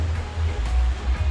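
River water in Jamaica rushes steadily with a low, rumbling wash close by, continuous and fairly loud.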